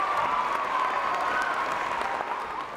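A crowd of school children cheering and clapping, a dense, steady roar of applause with a bright shouting edge that fades slightly at the end, no clear speech.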